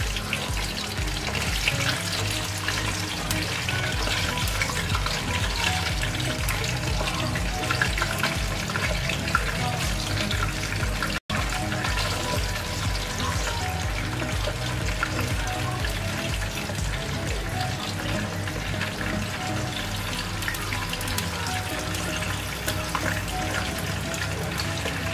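A kitchen tap runs steadily while bean curd (tauhu) is washed by hand, a continuous hiss and splash at close range that lasts throughout with little change.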